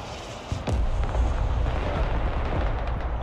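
In the military video game Broken Arrow, a direct-fire artillery shot lands as one sharp, loud boom, followed by a rumbling roll of explosion and battle noise that lingers to the end.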